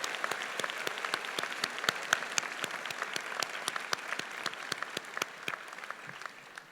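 A high school graduation audience applauds its speakers in a large hall: steady, moderately distant clapping from many hands, fading slightly toward the end.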